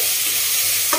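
Ginger garlic paste fries with curry leaves in hot oil for a fish curry, giving a loud, steady, close hiss that lasts for a brief moment with a faint knock at the end.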